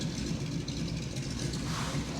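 Vehicle engine idling near an airplane outdoors, a steady mid-level low rumble that runs unbroken and fairly close.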